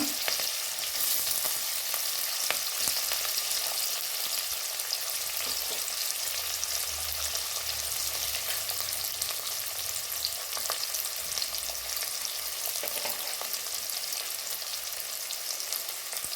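Onion and garlic frying in hot oil with mustard seeds and cumin, a steady close sizzle with scattered pops and crackles running unbroken and alone.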